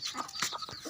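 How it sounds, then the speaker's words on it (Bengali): Local chickens and chicks cluck softly close by in a short, busy burst of overlapping clucks and peeps. "এই যে দেখেন বাচ্চা মুরগি আছে"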